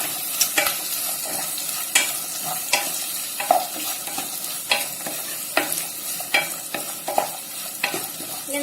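A pepper chicken mixture sizzles in a pan as it is stirred, with repeated scraping strokes of a spoon against the pan in an even rhythm over a constant loud hiss.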